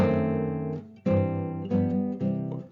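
Keyboard instrument plays a Pleyel cadence with a raised fourth scale degree in a 19th-century preluding style, three sustained chords in slow succession, clear and close with no talking.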